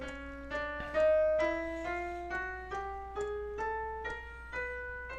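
A single voice sings a chromatic scale in solfège, rising note by note in an even, steady series of about a dozen sustained pitches, each clearly separated, close and alone with no accompaniment.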